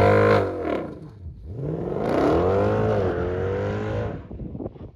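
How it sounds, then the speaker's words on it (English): A 2007 Mercedes E63 AMG with long tube headers accelerating hard, its exhaust rising in pitch through gears with a dip at a shift, loud and close, then easing off. "That exhaust sounds really good, guys."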